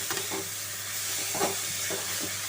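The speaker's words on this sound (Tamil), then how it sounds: "நல்லா கேரட்டையும் முள்ளங்கியும் நல்லா வதங்க விடட்டும்" Carrot and radish sautéing in a pan for ragi adai give a continuous soft sizzling hiss with faint stirring scrapes, close by and without talk.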